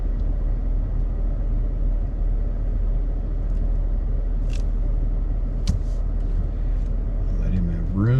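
Small tour bus driving along Cottage Street in Bar Harbor, Maine, a steady low engine rumble close by and fairly loud, with a few faint street sounds over it and a voice talking briefly at the end.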